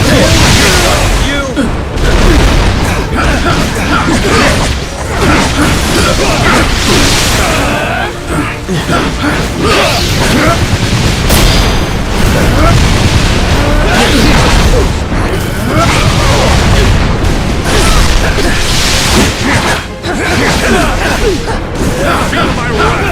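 Missile launches and explosions from Marvel Ultimate Alliance 3 form a loud, continuous wall of booms, whooshes and crashes with constant game combat noise and repeated bursts throughout.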